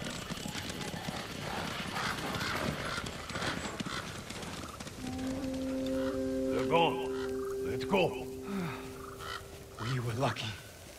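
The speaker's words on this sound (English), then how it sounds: "You hear that? Horses!" Horses galloping in the video game Ghost of Tsushima, a steady clatter of hooves under ambient game sound, joined later by sustained musical tones and a few louder stamping hits.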